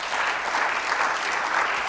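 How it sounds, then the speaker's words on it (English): An audience at a talk on the war economy and green jobs applauds the Vets for Peace members present, a steady wash of many hands clapping at moderate distance, unbroken for a couple of seconds. "I want to give you all a round of applause"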